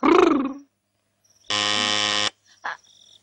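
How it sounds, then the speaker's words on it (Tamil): A harsh electronic buzz sounds once for under a second, between brief bursts of background noise; a doorbell-style ring with no talking. "காலிங் பெல் சத்தம் கேக்குது யாருன்னு போய் பாருங்க"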